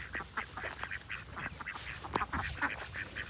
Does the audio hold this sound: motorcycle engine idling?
no